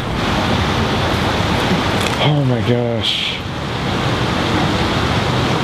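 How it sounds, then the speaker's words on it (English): Rushing water at Devil's Gate produces a steady, loud roar that fills the whole stretch, while a person briefly exclaims over it partway through. "It keeps making a noise. I think it's the water. It gets louder and louder and louder."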